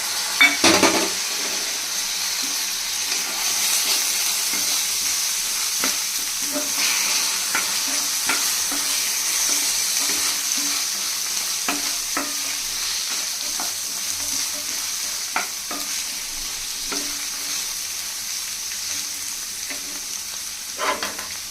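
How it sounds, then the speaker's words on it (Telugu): Green peas being stirred and fried in a pan for paneer matar masala: a steady sizzle runs throughout, with frequent scraping and clinks of a spoon against the pan, and no voices. "ఇప్పుడు ఇందులోకి మనం మటర్ యాడ్ చేస్తున్నాం"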